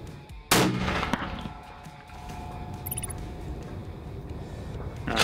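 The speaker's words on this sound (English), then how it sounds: "it's first shot at 100 yards with the barrel untaped" A single rifle shot cracks at 100 yards from an untaped barrel, one loud sharp report followed by a fading outdoor rumble and wind.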